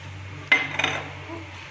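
A spoon clinks against a pot of thick, condensed-milk dessert: two sharp metallic knocks close together, then a soft scraping tail in a quiet kitchen.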